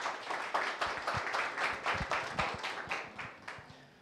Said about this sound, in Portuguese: Uma salva de palmas, é da cidade.